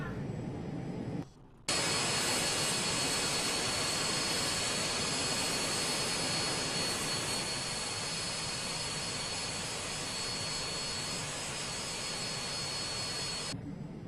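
An Embraer jet taxiing in a flight simulator game: a steady, loud engine whine with a high tone, briefly cut out near the start, then holding evenly to the end before stopping.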